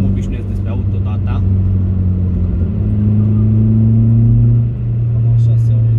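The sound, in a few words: sports car exhaust heard from interior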